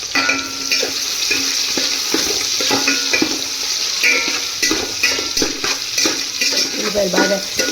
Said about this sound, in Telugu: తర్వాత ఉల్లిపాయలు వేసుకోవాలి మనం